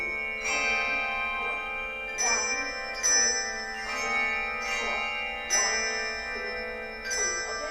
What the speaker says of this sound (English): Did everybody get their bells to ring?